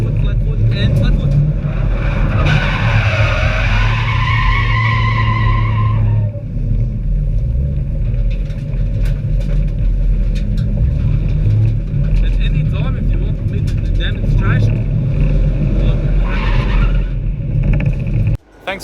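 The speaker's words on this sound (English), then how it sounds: "my attempt at drifting around a track" A car drifting around a track, its tires squealing in a long screech over a loud steady engine roar, with a brief renewed skid near the end.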